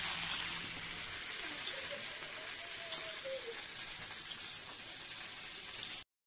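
Okra tempered with nigella seeds fries in a pan at home, a steady, fairly quiet sizzle running throughout with a few small pops and no talking.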